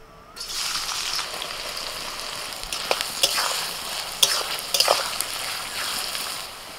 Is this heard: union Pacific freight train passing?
no